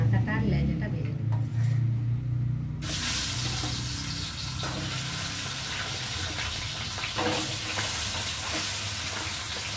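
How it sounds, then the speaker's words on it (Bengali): Hilsa fish head and tail fry in hot oil: a low hum opens, then a loud, broad sizzle bursts in and keeps hissing steadily close by. "মাথাটা আর লেজাটা ভেজে নেব।"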